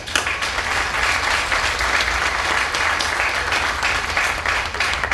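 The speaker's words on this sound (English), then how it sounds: "give yourselves a hand of applause." Audience applause fills a ribbon-cutting ceremony for a community center, steady dense clapping from a crowd lasting throughout, loud and close with no speech over it.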